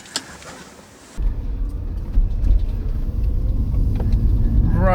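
A vehicle engine rumbles steadily as it drives along, low and continuous, after a brief quieter moment at the start, heard over a UK FM CB radio.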